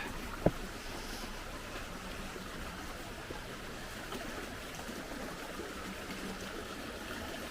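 Steady broadband rush of flowing river water where Chatburn Brook meets the River Ribble, constant and fairly close throughout, with a single brief click near the start and no voices.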